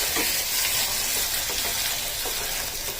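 Pieces of elephant foot yam go into a pan of sizzling garlic, green chilli and coriander paste in a village kitchen, producing a loud, dense, continuous crackle up close with soft scraping stirs.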